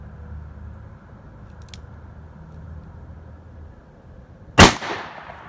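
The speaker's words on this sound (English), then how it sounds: "we're going to go with the revolver with the 4-inch barrel, and we're going to take 4 shots across the chronograph with that" A single sharp report from a .357 Magnum revolver with a 4-inch barrel, fired outdoors over a chronograph, cracks out loud near the end after a stretch of low background hum.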